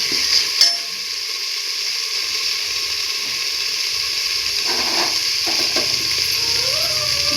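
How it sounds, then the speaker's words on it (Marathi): Spice masala with red chilli powder fries in oil for a mixed vegetable dish, a loud continuous sizzle close by, broken by a sharp clatter early on and faint scraping of stirring later. "सगळं मसाला भाजलेला, तेल पण सुटलं"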